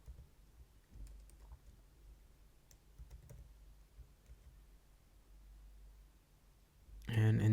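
Sparse computer keyboard keystrokes while HTML code is typed, faint scattered clicks in small bursts over a quiet background hum, ending with a louder rustle or bump.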